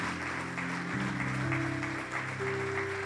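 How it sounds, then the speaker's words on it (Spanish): A church congregation applauds loudly and steadily, a dense wash of clapping with sustained music tones running underneath throughout. "Denle un aplauso fuerte."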